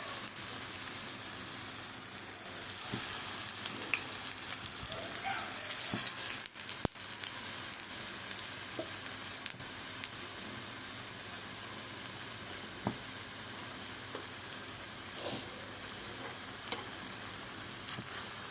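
Elephant foot yam fritters frying in hot oil, a steady close sizzle that goes on without a break, with a few faint clicks of stirring and no talking.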